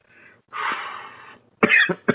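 A few sharp coughs from one person, a brief muffled one early, a longer rough burst, then two hard close coughs near the end, heard alone with no talking.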